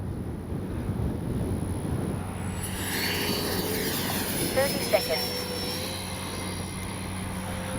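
A Top RC Swift RC jet glides in to land with its power off, giving a steady whooshing turbine whine that drifts across outdoor wind noise and rises slightly in pitch as it passes.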